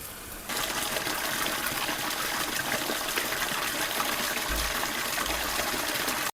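Water gushes with force through a 1.5-inch pipe into a filter, a loud, steady broadband rush that starts abruptly and runs on alone.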